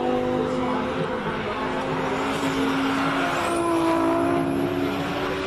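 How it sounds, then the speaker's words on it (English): A heavily modified turbocharged Audi race car runs a hillclimb, a loud sustained engine roar with rising whine and turbo sounds at close range, while a commentator talks over it. "Gosh, you can just hear everything happening with the turbo there."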